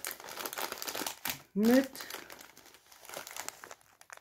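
A snack bag of cheese-flavoured corn puffs crinkles and rustles close by, running under steady talking, with a short louder squeak-like rustle partway through.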